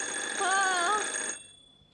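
A cartoon telephone rings with one short, warbling electronic trill that is loud and close, then stops abruptly and leaves near silence.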